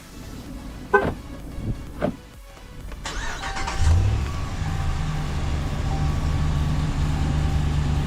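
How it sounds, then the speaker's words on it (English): A couple of faint key fob clicks, then a 2016 Dodge Ram 1500 engine remote-starts, cranking and catching, settling into a steady low idle rumble nearby. "In order to remote start the vehicle from outside, we press the lock once and the remote start twice"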